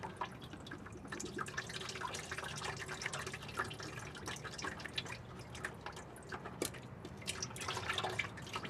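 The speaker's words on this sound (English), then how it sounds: "Drain all that oil into your oil pan out of the oil filter." Oil trickles and drips from an unscrewed car oil filter into a drain pan below, a continuous liquid patter with scattered louder drops, heard close and alone.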